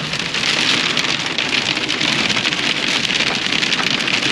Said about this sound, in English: Little coating of hail.